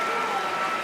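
Audience at the Mosconi Cup pool event applauding a shot, a dense, steady burst of clapping from a large crowd filling the whole moment.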